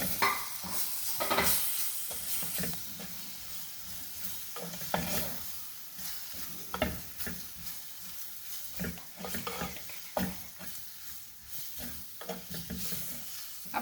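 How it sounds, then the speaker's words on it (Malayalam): About 250 grams of cleaned prawns fry and are stirred in a pan for a prawn roast. A gentle sizzle sits under irregular spatula scrapes and knocks, near and fairly quiet, with no talking. "250 ഗ്രാം ചെമ്മീൻ വൃത്തിയാക്കി വെച്ചതാണ് നമ്മൾ ഇതിലേക്ക് ഇട്ട് കൊടുക്കുന്നത് കേട്ടോ. അതിനുശേഷം ഇത് നന്നായിട്ട് ഇളക്കി വയ്ക്കും"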